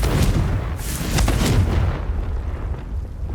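Confringo fire spell explosion in Hogwarts Legacy, a couple of deep booming blasts with crackling debris that fade into a low rumble.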